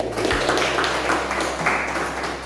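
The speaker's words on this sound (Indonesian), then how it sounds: "Berdua tepuk tangan buat Sarbini." Students in a classroom clap for a classmate, a diffuse patter of many hands, moderately loud and steady throughout, with a low hum underneath and no talking.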